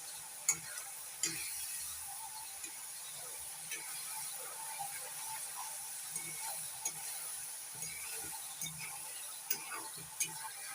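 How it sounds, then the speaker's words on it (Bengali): Coconut paste frying in a pan as it is cooked down for coconut oil, a faint, steady sizzle with soft scattered ticks and scrapes of stirring. "এগুলো আস্তে আস্তে লালচে হয়ে ভাজা হবে আর তেল বেরিয়ে যাচ্ছে"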